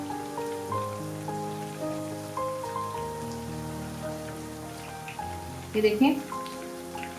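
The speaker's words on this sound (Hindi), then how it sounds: "सब्ज़ धनिया हमारा फ्राई हो रहा है, अभी थोड़ा सॉफ्ट है।" Green coriander frying in a pan for Lahori-style sarson ka saag, giving a steady soft sizzle like light rain under sustained background tones, with a brief louder clatter near the end and a short spoken remark.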